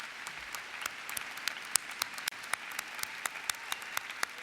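Sparse, scattered hand claps from an audience at a university new student convocation, honoring department chairs and faculty representatives; individual claps pop out distinctly over a faint, thin background at moderate distance.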